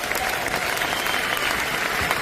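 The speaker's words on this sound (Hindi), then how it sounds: "इसके लिए एक बार ताली बजा सकते हैं।" Audience applause at a large RCM Next Generation business event in 2024, a dense, loud burst of clapping from a big crowd filling the whole moment without talk.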